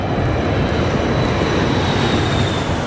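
Airliner cabin noise as the plane descends into stormy weather, a loud, dense, unbroken roar of engines and rushing air that holds steady throughout with no voices.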